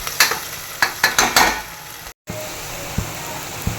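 Ginger garlic paste fries in a pan, sizzling with several bursts of stirring scrapes before a short cut, then a quieter steady hiss with an occasional tap.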